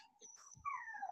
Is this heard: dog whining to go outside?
yes